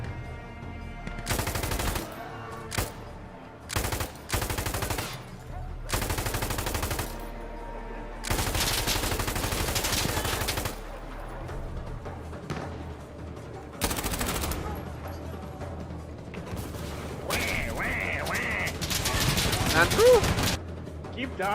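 Gunfire in the video game Mouse: P.I. for Hire comes in loud, repeated bursts of rapid shots separated by short pauses, with heavier sustained volleys toward the middle and end.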